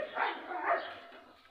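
A dog gives two quick, fairly soft barks in succession, heard at moderate distance in a quiet setting.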